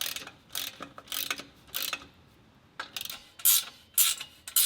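A ratchet wrench clicks in quick bursts while nuts and bolts are tightened on a Cobb catback exhaust under a Ford Focus ST, close and sharp, with short pauses between runs and no talking.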